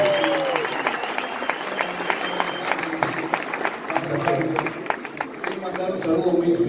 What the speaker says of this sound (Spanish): fuerte, fuerte el aplauso para Danilo y Eduardo